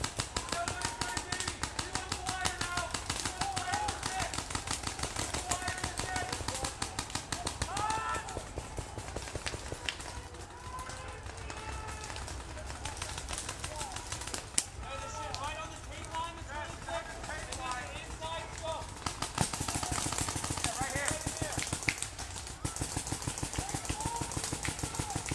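Paintball markers fire in rapid, overlapping streams throughout a tournament match between two teams, a steady crackle of shots running under loud, continuous crowd noise and commentary.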